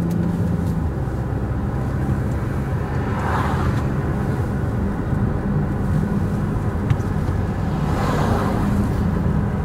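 A Ford Escape cruising at steady throttle on a flat road gives a constant broadband engine and road roar from inside the cabin, with slight swells in pitch as the RPM surges.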